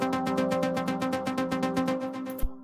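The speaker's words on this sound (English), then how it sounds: "And then I added Hive. There's Hive, Omnisaw, and it sounds like this." Hive synth's Omnisaw preset playing in FL Studio for an Afro House track: a bright, buzzy stack of detuned saws pulsing in steady rapid chords, each stab swelling and fading, ending with a brief thump near the close.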